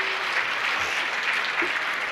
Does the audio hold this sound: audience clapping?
yes